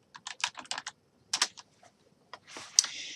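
Rapid bursts of typing on a computer keyboard, clustered keystrokes with short pauses, close and clear with no talking.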